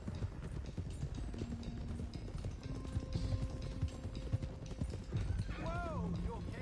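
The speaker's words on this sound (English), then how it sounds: "Let's get these horses to Clemens Cove quick before we run into any more trouble." Horse hooves clip-clop on the ground in Red Dead Redemption 2 as horses are driven toward Clemens Cove, steady rhythmic hoofbeats with a horse's whinny near the end and voices talking over the riding.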